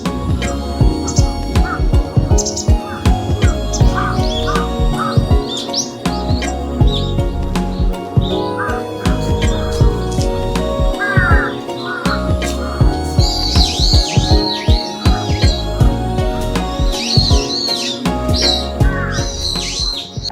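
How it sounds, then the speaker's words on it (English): Many birds calling in a Tokyo garden, a dense, nonstop mix of chirps, tweets and whistled calls from several birds at once, loud and close with no one speaking. "I knew there would be some birds here because it said that on this place when I googled it before coming, but it's so many birds."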